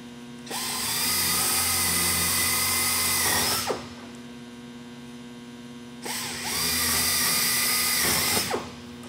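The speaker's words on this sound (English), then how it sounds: "We're going through several layers of aluminum now, so it takes a little while to drill." A power drill whines in two long bursts separated by a pause, each spinning up with a loud grinding buzz over a constant electrical hum, boring through several layers of aluminum sheet.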